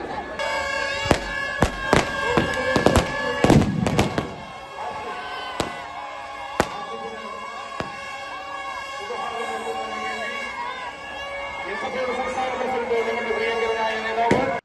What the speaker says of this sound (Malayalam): കളി അവസാനിച്ചതോടെ മൈതാനത്ത് പടക്കങ്ങൾ പൊട്ടി